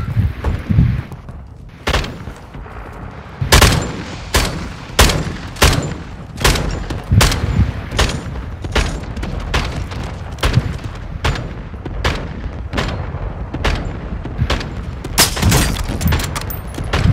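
Sniper rifle shots in the video game Call of Duty: Modern Warfare II ring out as sharp, loud cracks every second or so. Fainter distant shots and thuds fill the gaps between them.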